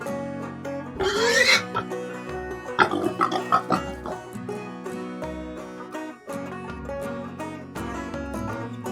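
A pig grunts and squeals a few times over a bouncy musical backing, the animal sounds brief and up close.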